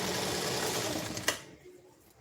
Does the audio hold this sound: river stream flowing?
no